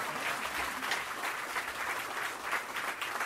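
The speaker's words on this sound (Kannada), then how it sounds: "ಹೊಡಿರಿ ಚಪ್ಪಾಳೆ." Audience applause at a birthday celebration during a Ramayana storytelling performance: a steady, dense wash of many hands clapping, fairly loud and continuous throughout, with no talk over it.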